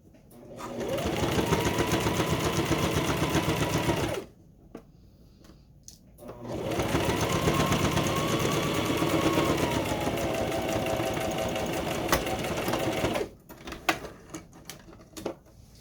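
A sewing machine stitches the seams of a tote bag in two sustained runs, a steady loud whirring hum lasting about four seconds, then a short pause with faint handling, then a longer run of about seven seconds before stopping.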